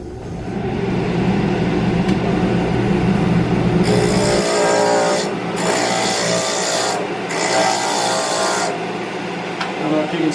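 A sanding drum grinds against cherry wood, a loud rasping whir with bursts of harsher scraping as the workpiece is pressed in and pulled away several times.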